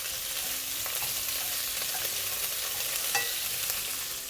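Prawns fry in an oiled pan with a dense, even hiss of sizzling that holds steady throughout, close and fairly loud, with only faint small clicks and no voices.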